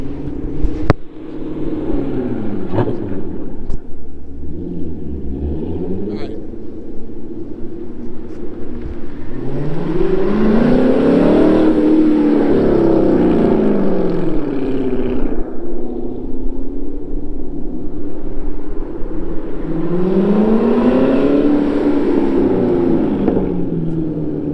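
A C7 Corvette Grand Sport fitted with an AWE exhaust makes two loud passes, each rising to a booming engine roar and then fading away, with a steady rumble carrying between the flybys.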